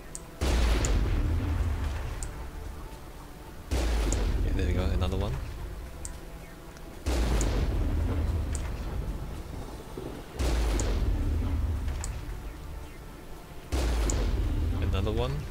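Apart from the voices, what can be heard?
explosions killing enemies in video game Mass Effect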